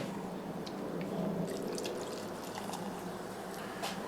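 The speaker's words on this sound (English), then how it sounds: "I put in my sparkling water" LaCroix coconut sparkling water poured into a glass over ice and fresh lime, a soft close fizz and gentle trickle with faint bubbling throughout.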